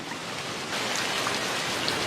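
Steady, heavy rain patters down continuously, a dense broadband hiss of drops striking surfaces, growing slightly louder partway through.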